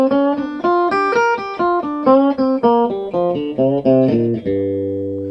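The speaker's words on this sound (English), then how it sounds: "And then continue up the scale till I get to the other C and bend that up a half step." Electric guitar climbing a pentatonic scale note by note, each pick distinct and clean, with half-step string bends bending pitches upward near the top before a final sustained note rings out; played alone, no talking.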